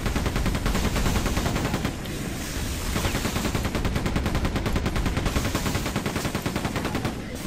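Rapid machine gun fire in the video game Quake 2, a dense, loud, continuous stream of shots sustained throughout with no talking.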